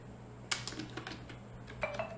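Computer keys tapped in short quick bursts while typing text, faint and close, with a few scattered clicks and no talk.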